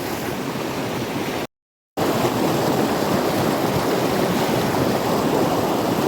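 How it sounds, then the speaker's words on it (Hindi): Fast-flowing river running high and strong, a loud, steady broadband rush of churning water heard up close, with a brief moment of silence early on before the roar resumes unbroken. "पानी का बहाव बहुत तेज हो गया है"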